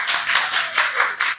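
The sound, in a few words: audience applause at a lecture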